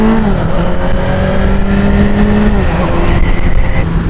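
A 2023 Kawasaki Z900 motorcycle engine drones loudly and close by, holding a steady pitch before the revs shift partway through, with no one speaking.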